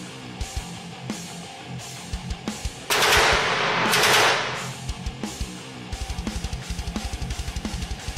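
Heavy machine gun fire as a sound effect for a tabletop car combat game: rapid bursts of loud staccato shots, a dense roaring burst in the middle, then another fast regular volley, with no voices.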